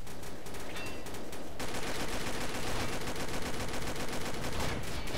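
Semi-automatic gun in the video game Combat Arms firing a dense, continuous string of rapid shots that grows fuller after the first second and keeps a loud, steady clatter throughout.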